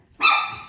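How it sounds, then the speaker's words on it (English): A single dog bark rings out close and loud, starting abruptly and holding a strong, slightly drawn-out tone before trailing off, with no talking over it. "Sorry about the dog barking."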